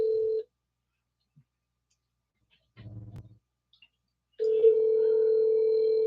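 A telephone call's ringback tone, steady and moderately loud, sounding in two bursts separated by a pause, with a brief faint murmur in between.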